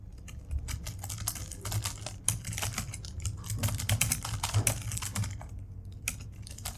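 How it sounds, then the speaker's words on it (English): Rapid, uneven clicking of code being typed on a computer keyboard, close and clear with no talk, running steadily for several seconds with short pauses between bursts of keystrokes. "And here you can type your code."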